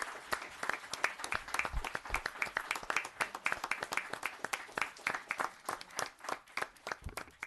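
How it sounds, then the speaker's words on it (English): A town board meeting audience gives a round of applause for a newly promoted detective sergeant: many hands clapping in a steady, lively patter, fairly distant and sustained throughout. "A nice round of applause for Detective Sergeant Tom Byrer."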